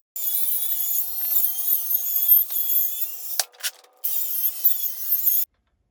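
A cordless saw rips lumber boards freehand during a shop build, giving a loud, steady high-pitched motor whine under load for about five seconds, broken by a brief pause with a few sharp bursts before the cut resumes.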